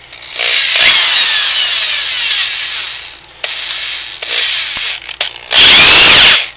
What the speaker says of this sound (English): I like to start off by just drilling a pilot hole.